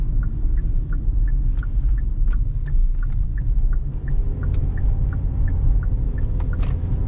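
Inside a 2021 Hyundai Kona SEL Plus AWD with its 16-valve engine pulling at half throttle past traffic, a low steady engine drone and road rumble fill the cabin, with faint regular ticking chimes over it and no talking.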